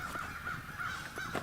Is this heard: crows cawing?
yes